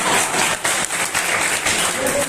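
Applause from an audience at a Hindi kavi sammelan poetry gathering, a busy wash of many hands clapping at close range, fairly loud and sustained, with a voice speaking over part of it.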